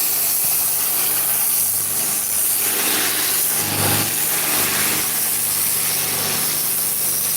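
High-pressure water service washer machine running steadily at close range, a continuous loud hissing spray with a low engine drone underneath, no talking.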